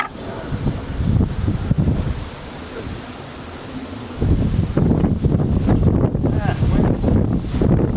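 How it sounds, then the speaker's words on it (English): Wind rushes across an outdoor beehive inspection as a broad, steady roar, then swells into a stronger gust partway through that keeps buffeting the microphone. "Didn't know a gust of wind was coming."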